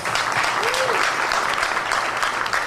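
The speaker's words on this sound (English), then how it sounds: "a very, very special round of applause to our drummer" A round of applause for the drummer who played all ten nights at a Ganesh Utsav celebration, brisk dense clapping from the gathered crowd, with a faint voice briefly rising through it.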